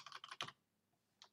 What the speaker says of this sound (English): You can actually just start typing